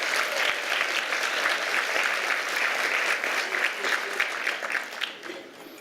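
Audience at a charity breakfast applauding to congratulate the Mount Sinai Auxiliary, a sustained even round of clapping from a large room that fades slightly toward the end.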